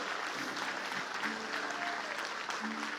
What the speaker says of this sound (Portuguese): Salva de palmas para Jesus Cristo.